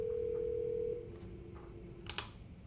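A desk phone gives a steady electronic tone that stops, and a few faint beeps and a short burst follow, quiet and close, with no talking.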